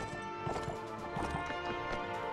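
Horses gallop in the video game Mount & Blade: Warband, a steady run of clip-clop hoofbeats with clattering battle noise layered over it, fairly loud and with no talk.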